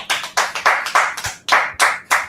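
Several sharp hand claps ring out in an uneven rhythm, close and fairly loud, like a small group briefly applauding.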